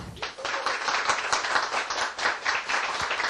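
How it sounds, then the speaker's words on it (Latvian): At a panel discussion, an audience applauds to welcome the participants as they take their seats, a steady round of many hands clapping at moderate volume. "Lūdzu, sagaidām katru ar aplausiem."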